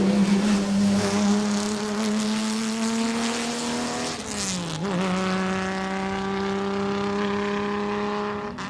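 A pre-war Riley Brooklands racer with a small 1.5 litre engine, loud and close, holding a steady rasping drone, easing off briefly partway through, then pulling again with rising pitch.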